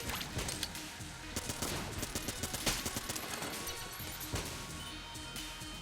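Rapid, dense gunfire from the video game Enter the Gungeon rattles on without pause, sharp crackling bursts and impacts layered over a busy game soundtrack.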